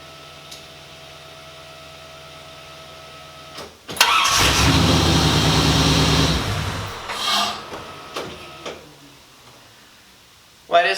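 1950 Chevy Coupe engine catches and settles into roughly a two-second idle at 820 RPM, then drops away and falls quiet, followed by scattered clunks and brief voices.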